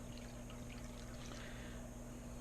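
Water running steadily through an aquarium gravel vacuum during a water change on a 125-gallon planted tank, a soft continuous trickling pour, fairly quiet and constant throughout.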